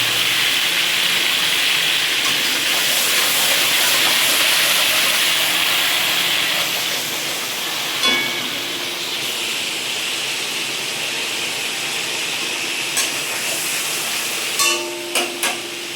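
Onions frying in oil for a Bengali prawn malai curry: a steady, loud, continuous hiss of sizzling, broken near the end by a few light clicks and taps.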